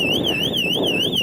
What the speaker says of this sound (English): there's an alarm going off inside of the building right now